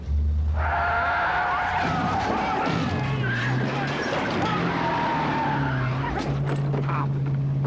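A 1974 Cadillac braking hard in a film scene, tires squealing and skidding in long, loud screeches while engine noise and shouting voices overlap.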